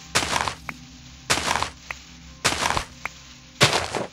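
Digging dirt blocks out of a hill in the Minecraft video game, four crunchy breaking bursts at roughly one-second intervals, each followed by a small pop, close and clear without talk.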